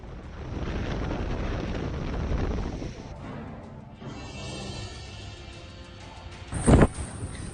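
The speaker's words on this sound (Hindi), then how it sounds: "तेज हवा के साथ हो रही जबरदस्त बारिश ने जीना दुश्वार कर दिया।" Strong cyclone winds and heavy rain from Cyclone Amphan in West Bengal roar as a dense, steady rush. A sharp louder gust or crash comes near the end, and no one speaks.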